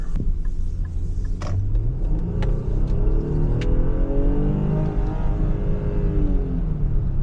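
A deep engine growl rumbles up as a Nissan Pathfinder SUV revs, climbing and settling in a smooth throaty swell, loud and close.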